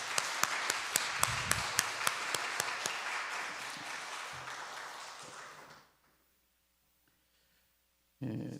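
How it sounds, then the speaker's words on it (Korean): Congregation in a Korean church in Naju applauding during a service: dense, steady clapping for about six seconds that fades out into near silence, with a brief burst of other sound at the very end. "박수로 하나님께 영광 돌리겠습니다."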